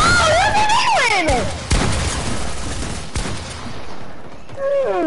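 Gunfire in a shooter video game: bursts of shots and sharp booms crack through the first half amid in-game effects and sliding tones, with one more loud shot near the three-second mark.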